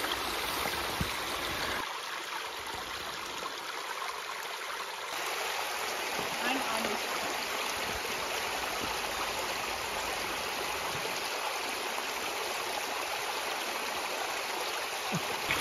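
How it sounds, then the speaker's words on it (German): The Michelsbach, a mountain brook in the Palatinate, rushing over rocks with a steady, close, broadband wash of flowing water that continues unbroken. "der Michelsbach muss mal richtig viel Wasser transportiert haben"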